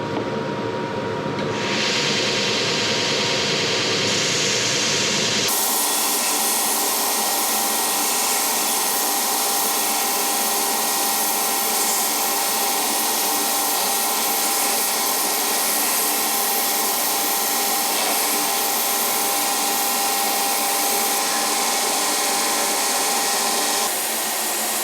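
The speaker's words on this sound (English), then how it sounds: "Well, that's quite a process to sand all these." Steady, loud broadband whir of power sanding on wood for 10-foot-tall carriage wheel parts in a coach shop, continuing for the whole stretch with a shift in tone after a few seconds as the sander settles into contact.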